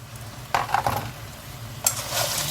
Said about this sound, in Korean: 이렇게 얼른 저어주세요.